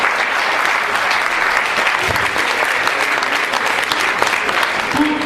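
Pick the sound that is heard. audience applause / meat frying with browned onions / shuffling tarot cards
audience applause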